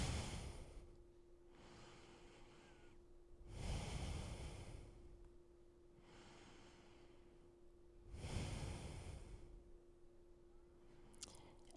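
Slow deep breaths during a yoga stretch on the mat, three long broad inhale-exhale swells spaced a few seconds apart, close and soft over a steady low hum, with no talking.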